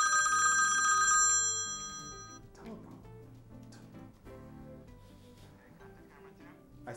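An incoming call on a talk show sets a telephone ringing loudly with a bright electronic trill for about two seconds. Voices and studio sounds follow after the ringing stops.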